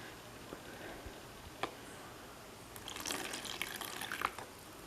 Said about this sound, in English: Let's put some water in.